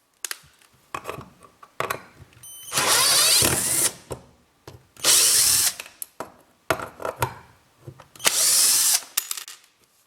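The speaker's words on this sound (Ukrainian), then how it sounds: "Подивимось, як він їх викручує." A Vitals Master AUmo 10nli cordless screwdriver backs screws out in three loud, steady whirring bursts of about a second each, with clicks and handling noise between them.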